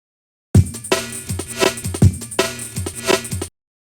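A looping jungle drum break plays twice through with punchy kicks and a reversed snare slice swelling backward into each beat, then cuts off abruptly.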